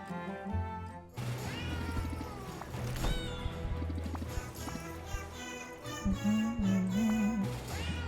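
Cartoonish cats meow in the video game Potionomics, several rising and falling cries layered over upbeat game music and clip-clop sound effects, fairly loud and continuous.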